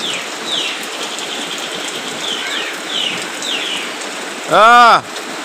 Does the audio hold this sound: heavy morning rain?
yes